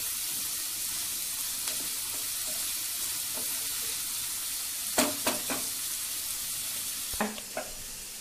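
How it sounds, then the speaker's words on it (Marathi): Onions sauté in a pan for kanda kurdai bhaji, giving an even, fairly soft sizzle, with a handful of sharp clicks and scrapes of a spoon clustered near the end, no talking. "आता कांदा आपण छान परतून घेणार आहोत."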